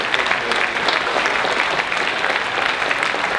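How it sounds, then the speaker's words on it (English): Banquet guests at an annual membership dinner applaud award recipients, a continuous wash of clapping from a large room, even in level from start to finish. "a big round of applause for, of course, C. Wayne and all of our award recipients this evening"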